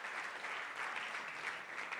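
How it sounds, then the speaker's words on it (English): Applause from an audience at a charity gala, a steady wash of many hands clapping that holds at an even level throughout without a break. "Can we get an applause in the room for that?"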